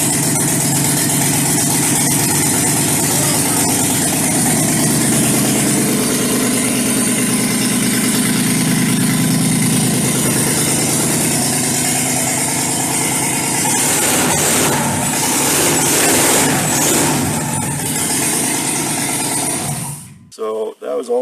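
A rebuilt truck engine runs steadily at a loud idle on a run stand, holding an even drone before cutting off near the end amid rattles and clunks.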